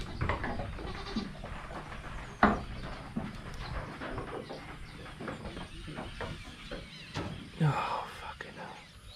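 Goat bleats from a farm herd during a bloat emergency, including a sick nanny, heard as a few short calls scattered over steady background noise, with brief low murmured voices between them.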